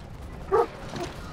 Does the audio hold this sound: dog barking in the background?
yes